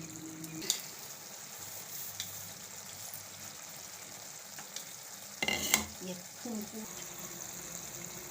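Okra in yogurt simmering in a pan for a Gujarati dahi bhinda shaak, a soft steady sizzle and bubble with a few stirring clinks and scrapes, and someone speaking over it.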